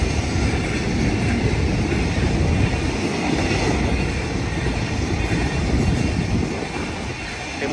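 A train of new cars rolls past close by, a loud steady rumble of wheels on rail with faint clickety-clack and squeal, easing slightly at the end.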